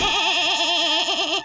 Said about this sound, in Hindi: क्या बोलती हुई और गाती हुई बकरी?